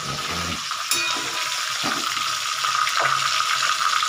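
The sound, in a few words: fish frying in oil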